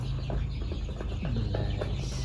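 Free-range kampung chickens, about 29 days old, cluck softly and intermittently around a farm against a steady background hum, no voices.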